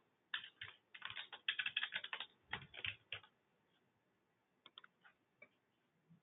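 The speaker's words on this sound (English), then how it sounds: "I'm going to start typing my customer name." Someone types a customer name on a computer keyboard while entering a sales order, with quick bursts of close, crisp key clicks, then a pause and a few scattered final taps.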